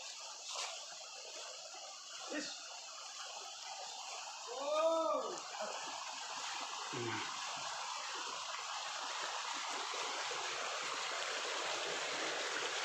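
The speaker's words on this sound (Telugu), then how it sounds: "వాటర్ కొండల నుంచి వస్తుంది కదా అది" Steady rushing of a stream flowing down from hills through dense forest during heavy rains, a soft continuous wash with a few brief faint calls and a short murmur partway through.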